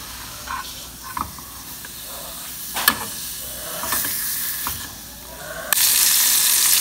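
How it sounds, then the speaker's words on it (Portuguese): Pork frying in a pan, a steady close hiss and sizzle with occasional clinks of stirring, growing brighter and louder toward the end. "Aí tá fritando."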